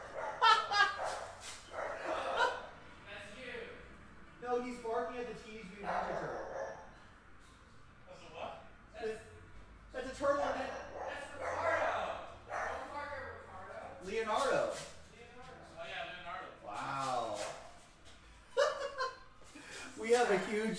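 A small dog barks excitedly in short bursts at a Teenage Mutant Ninja Turtle figure in a shop, amid people talking and laughing nearby.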